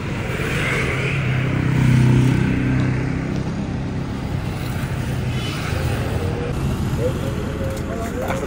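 Busy street traffic in Kuala Lumpur, a steady wash of car, motorcycle and bus engines rumbling nearby, with a swell of louder passing traffic early on, heard from the roadside.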